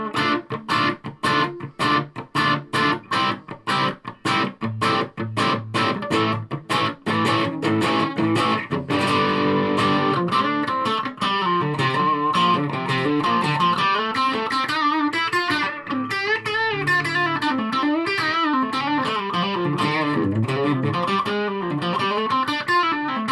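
A Yamaha AEX520 electric guitar played loud through the amp's drive channel with no distortion pedal, choppy rhythmic strumming giving way to sustained, gritty lead lines.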